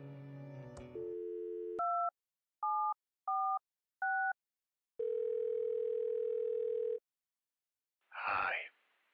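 Phone tones in the video game Thimbleweed Park: a ringback-style hum, then four short dual-tone beeps in an even rhythm, a long steady dial tone, and a brief breathy noise at the end, all clean and close.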